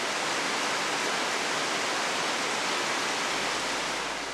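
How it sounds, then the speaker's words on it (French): Water trickles and runs in an equatorial rainforest in French Guiana. It comes through as a dense, steady, loud wash of rushing, hissing water with no pauses and no voices. "En permanence, l'eau perle, suinte, coule, ruisselle."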